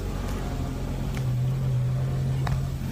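Steady low engine drone and road rumble from inside a moving car, continuous and fairly loud throughout, with a brief rising tone in the middle; no talk.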